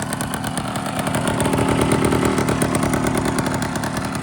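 A small scooter engine runs steadily with a buzzing, throbbing rattle, loud and close, holding a constant idle without pauses.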